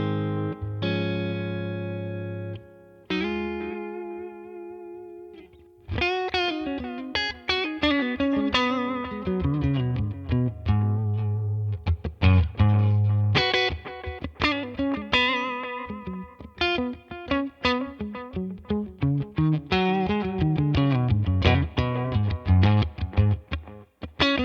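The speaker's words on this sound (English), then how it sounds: "This is the default setting, so I'm just going to go ahead and play straight away with my Strat" A Stratocaster electric guitar played through the Tone King Imperial MKII amp plugin on its default setting: a few sustained chords ring out, then a busy run of picked notes and chords, close and alone.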